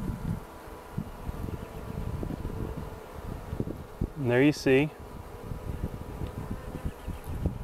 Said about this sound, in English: There are the worker bees tending to the queen.